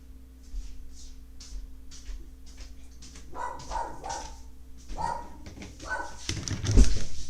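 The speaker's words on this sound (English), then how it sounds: "my dog's barking." A dog barks indoors in a series of short yips and barks mixed with whimpers. The barks grow louder and denser toward the end, and no one speaks.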